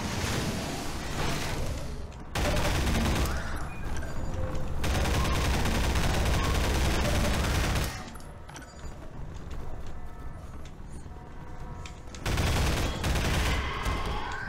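Dense gunfire from the video game Half-Life 2: Episode Two comes in loud sustained volleys, drops to quieter scattered shots midway, then swells back to heavy firing near the end.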